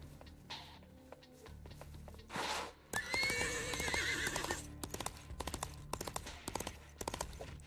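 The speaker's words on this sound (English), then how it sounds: "Horsey stands up." A horse in the video game Disney Infinity neighs and rears up, giving shrill whinnies over a steady clip-clop of hooves and in-game effects, fairly faint overall.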